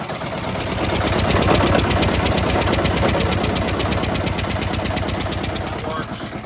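A turbo diesel snow blower runs steadily with its auger engaged, a loud, rapid mechanical knocking and chugging that holds constant for several seconds before easing slightly at the end.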